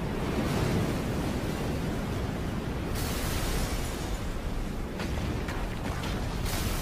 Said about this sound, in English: Ocean waves transfer energy usually from the wind